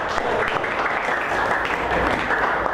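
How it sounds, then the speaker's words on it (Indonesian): Steady applause from a classroom of students clapping for one group during a lesson activity, a dense, even patter of hands held at constant loudness throughout the short stretch. "Tepuk tangan untuk kelompok A."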